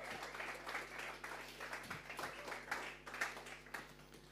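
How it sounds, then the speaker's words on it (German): Applause from an audience at a Sunday church service, a moderate clatter of clapping hands with individual claps standing out, set against a steady low hum. "geben wir ihm einen Applaus."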